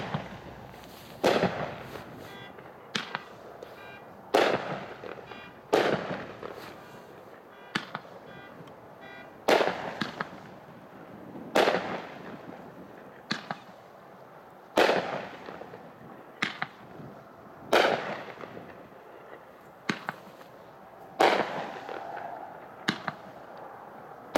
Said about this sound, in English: Diamonds Are a Girl's Best Friend by Hot Shot is a 16 shot cake packed 4 over 1.